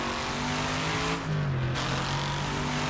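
A Prius race car in Wreckfest gives a steady, loud engine drone with a brief dip and a shift in pitch partway through, set against constant road and tire noise and with no talk.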